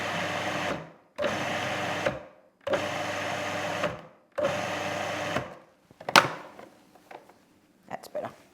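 Food processor pulsing falafel mix, four loud whirring bursts of about a second each separated by short gaps, followed by quieter knocks and clatters of handling the bowl.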